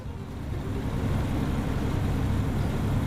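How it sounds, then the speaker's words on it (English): Truck engine in American Truck Simulator, a steady low rumbling drone while driving, with a faint clattering texture inside the continuous engine noise, close and moderately loud. "Anyone else hearing that noise from this engine as we're driving? Maybe sounds like something's clattering inside of it."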